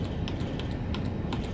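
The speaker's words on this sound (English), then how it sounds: "So first, on the keyboard, press option," Keys on an Inmarsat C satellite terminal keyboard are pressed in a quick series of soft, close clicks, several separate taps within a second and a half over a low background hum.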